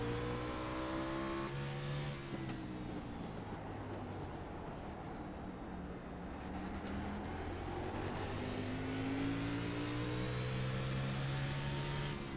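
A race car on the Martinsville short track, its engine revving and droning steadily for about twelve seconds, pitch rising and falling as the throttle is feathered, fairly distant and continuous with no voices.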